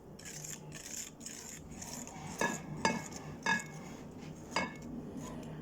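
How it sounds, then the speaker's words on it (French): Eggs and flour whisked together in a bowl, with a steady scraping, stirring rustle and a few sharper clinks of utensil against the bowl near the end, close and moderately quiet. "Donc, je vais mélanger."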